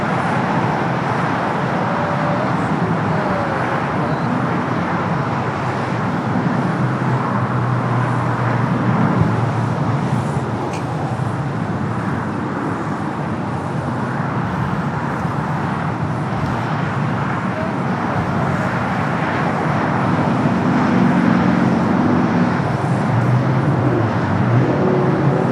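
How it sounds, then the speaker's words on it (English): A United Boeing 787-9 Dreamliner, flight 153 arrived from Hong Kong, taxis toward Terminal 7 at LAX, giving a continuous broad jet engine roar with a low rumble, steady and fairly loud throughout, with no voices. "United Dreamliner is the flight that came in from Hong Kong, flight 153, 787-9 Dreamliner, making its way over there to Terminal 7."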